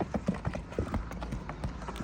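Cows being led in pairs by hand clop along on their hooves, a quick uneven run of close, distinct knocks with a quiet background.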